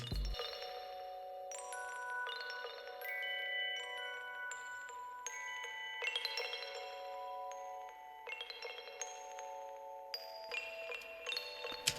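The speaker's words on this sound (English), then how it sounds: "This preset is from a bank called Spacewalk, and it's the Rings of Saturn preset." The Rings of Saturn synth preset from the Spacewalk bank rings out in bright, bell-like chiming notes with delay echoes trailing behind each strike, soft and spacious, with no voices.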